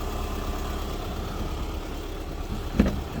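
A 2010 Volkswagen Caravelle sits with its engine idling, a steady low rumble held close and even, broken by one brief knock near the end.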